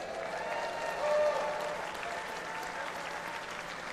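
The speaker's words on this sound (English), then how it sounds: "we're going to give them a round of applause" A convention audience at a general assembly session applauds, a steady wash of clapping heard from a distance, moderately loud and fairly even, with faint talk beneath.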